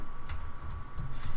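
Code typed on a computer keyboard: a short run of quick key clicks, several separate taps close to the mic over a steady low hum, with no voice.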